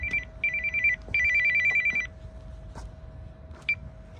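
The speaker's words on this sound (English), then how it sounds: "Here's my phone ringing." A phone ringtone chimes in repeated electronic bursts, two short rings then a longer one, over a low steady hum and faint background noise.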